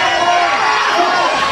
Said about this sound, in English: And you hear the crowd tonight